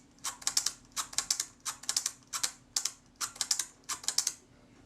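A Kodak Retina IIIC camera shutter fired at 1/15 speed gives sharp, close mechanical clicks in quick clustered bursts, repeating about six times over five seconds, with no voices.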